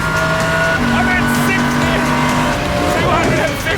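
A Pagani Zonda R race car at high speed on a track, its loud engine roaring close with shifting pitch and tire noise, under excited shouting from the driver.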